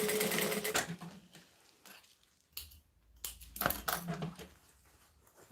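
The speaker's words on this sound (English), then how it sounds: "So now I'll jump back to this and you hold it flat and then I sew the other side." A sewing machine stitches fabric in quiet, intermittent bursts of rapid mechanical clatter, separated by short pauses and soft handling noises.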